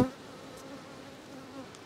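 Buckfast honeybees hum around an open hive on a cold spring day, a soft, steady buzzing drone close by with no voices.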